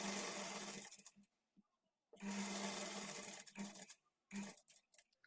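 A sewing machine stitches a fall onto a saree in three close, loud runs of rapid whirring, the first two long and the last short, separated by quiet pauses with faint handling clicks.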